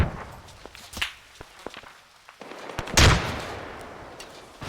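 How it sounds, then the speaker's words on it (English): Scattered gunfire in the military shooter Arma 3 during a team exercise: sharp cracks and thumps at irregular intervals, near and distant, with one loud burst near the middle and rounds snapping around. "I got rounds popping all around me, but I'm not getting hit."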